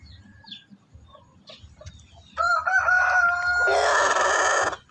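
A large red rooster crows nearby, a loud drawn-out call that starts halfway through and holds for about two seconds, following a few softer clucks.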